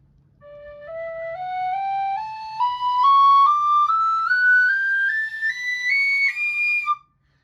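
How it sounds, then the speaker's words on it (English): A tin whistle climbs a stepwise scale from low D to double high D, each pitch held briefly, clear and close with no talking. "Here's a scale from low D up to double high D."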